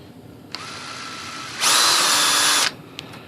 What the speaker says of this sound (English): Very little pressure on the drill right now.